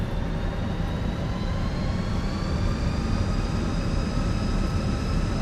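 Airbus A320 jet engines spool up in Microsoft Flight Simulator, a loud and steady roar with a whine that climbs slowly in pitch.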